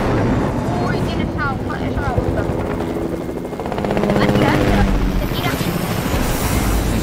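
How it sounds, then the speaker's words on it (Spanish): A helicopter in the video game Fortnite gives a steady rotor thrum and engine drone throughout, with excited players talking loudly over it. "Tengo el helicóptero, José. José, súbete, que tengo el helicóptero."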